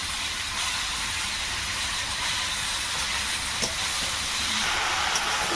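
Malabar spinach greens dropped into a hot pan for dry frying give a loud, steady hiss of sizzling that runs unbroken from start to end, with no voices.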